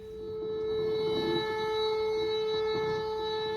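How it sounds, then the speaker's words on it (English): A malfunctioning tornado siren holds a steady, droning tone at a constant pitch, sounding distant and unwavering, with faint rumbling underneath. "it's likely just a malfunctioning tornado siren"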